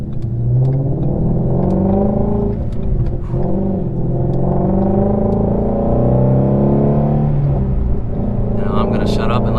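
Ford Mustang Shelby GT350 engine and exhaust revving, a loud, close, deep rumble with repeated throttle blips swelling and falling over several seconds, voices talking underneath.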